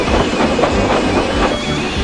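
A steam locomotive starts moving as its regulator is opened, giving a loud, close, continuous rumble with rhythmic chuffing and clanking that carries through the whole short stretch.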